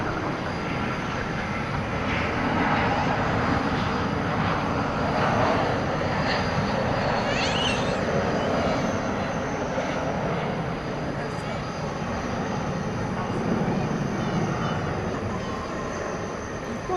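A night arrival at DFW Airport: an airliner from Punta Cana in the Dominican Republic comes in to land, its engines a broad sustained roar that swells and eases, with a voice talking over it.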